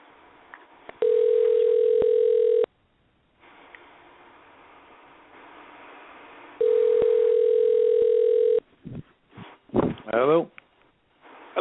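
A telephone ringback tone sounds in two long steady beeps separated by a pause while a call is placed, followed by brief voices starting to talk on the line.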